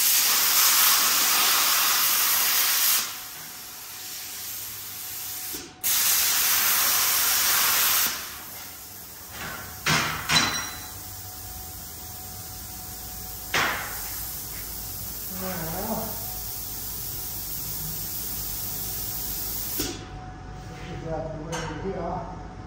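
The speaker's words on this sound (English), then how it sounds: "so you can see where you're cutting this plasma cutter, since it's not as bright as a welder" A plasma cutter cutting metal gives a loud, steady hiss in two long bursts, then a series of shorter, quieter bursts and clanks, with talking in the background.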